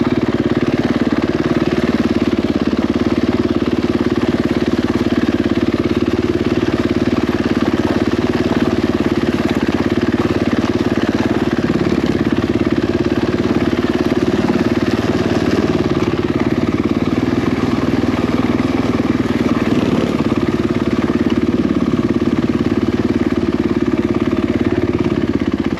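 A dirt bike engine drones steadily on a mountain hill climb, loud and close throughout, with a constant mid-pitched rumble and small shifts in throttle but no clear revving bursts.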